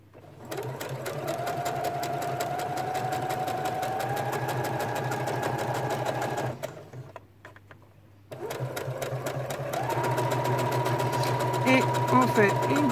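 A domestic sewing machine stitches a fabric bag with a steady, close motor whir. It stops briefly, then restarts and runs faster toward the end of the seam. Faint talk is heard beneath it.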